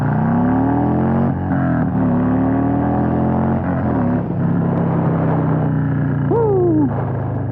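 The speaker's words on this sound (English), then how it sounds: "So I'm going to get a quick 0 to 60 on this bike." A Harley-Davidson Road King Special motorcycle accelerates hard from a standstill toward 60 mph. Its loud, close engine note climbs through the gears, rising steadily and dropping briefly at each shift, with one high rising sweep near the end.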